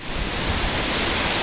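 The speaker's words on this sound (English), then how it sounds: "Actually, there's two waterfalls." Twin waterfalls in a mountain valley near Manali give off a steady, dense hiss of falling water, unbroken and fairly loud across the short stretch.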